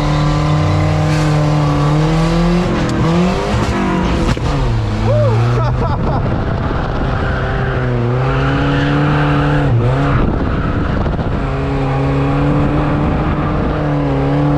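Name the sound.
car engine revving and tires squealing while drifting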